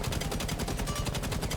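Fully automatic AK rifle fire in Rainbow Six Siege, a rapid, even stream of sharp shots at a steady cadence, loud and close, continuous for the whole burst.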